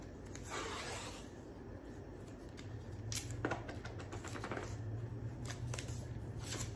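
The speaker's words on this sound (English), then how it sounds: "I'm gonna go ahead and tear that at that point." A strip of painter's tape is torn by hand while taping off a checked pattern, giving short, close ripping and crackling bursts over a steady background hum.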